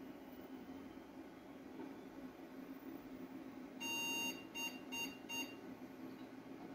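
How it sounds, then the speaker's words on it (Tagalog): A desktop computer with no display gives a BIOS beep code at power-on: one long electronic beep followed by three short beeps, clear and steady over a constant fan hum. "meron siyang beep. Yun yung mga beep code. So, yung una is long beep."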